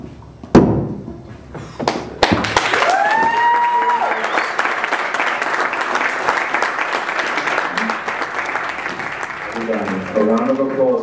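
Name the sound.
audience applause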